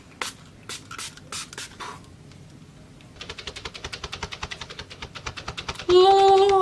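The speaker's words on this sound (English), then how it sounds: "here's my rose water, and I'm just gonna go ahead and spray my whole face with that." Rose water mist is sprayed onto a face in several quick bursts. A longer run of rapid, rhythmic pumping spritzes follows, close to the microphone.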